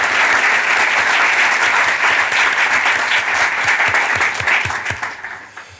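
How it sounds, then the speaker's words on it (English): Audience applause for speakers at a talk event, dense sustained clapping from a large crowd that holds steady before thinning out and fading at the end. "Can we give a huge round of applause to these incredible speakers?"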